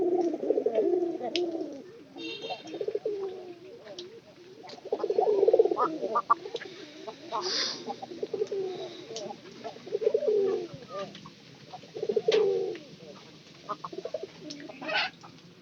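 Pigeons coo in a coop where they nest and lay eggs, giving soft repeated throaty coos in short bursts every couple of seconds, fairly close, with faint talk in the background.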